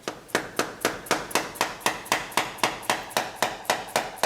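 A hammer drives a screwdriver to pry the engine cover off an abandoned 1962 AMC Rambler, with about fourteen sharp metallic strikes at a steady, even pace, loud and close with no talking.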